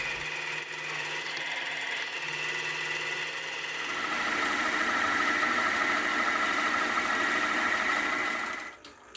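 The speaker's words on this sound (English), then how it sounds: "I'll start to machine a counter bore on one side of the part" A milling machine cuts a counter bore into one side of a part for a large 200 mm fly cutter, giving a steady mechanical whine and hum that steps up and grows louder partway through, then cuts off at the end.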